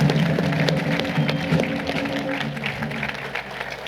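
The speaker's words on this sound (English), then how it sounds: "Let's give a round of applause for those guys." Crowd applause for youth academy players and their parents at a Charlotte FC announcement event, dense clapping that holds strong then slowly eases off over a few seconds.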